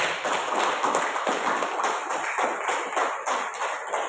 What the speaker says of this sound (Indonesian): Tepuk tangan untuk diri kalian sendiri